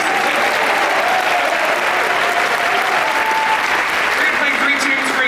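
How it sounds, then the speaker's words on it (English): A school band concert audience gives a loud, dense round of applause, steady and sustained throughout, a crowd of many hands clapping together. "Give Caden a round of applause."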